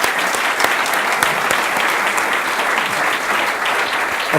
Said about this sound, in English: please give it up a really big applause for Minister Gilbert Saboya